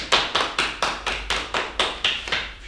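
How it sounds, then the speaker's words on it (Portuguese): A small audience at a World Poetry Day radio special claps in time, about ten evenly spaced, fairly close claps in a quick rhythmic run, with no talking. "Uma salva de palmas para a poesia."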